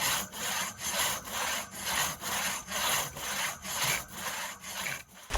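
A crosscut hand saw cuts through a log on a wilderness trail in steady back-and-forth strokes, about ten rasping, close, rhythmic pulls with no talking.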